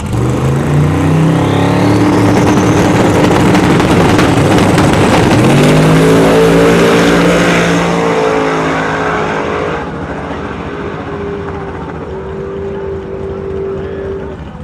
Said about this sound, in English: Sam twin turbo 540 cubic inch big block in the Grand National.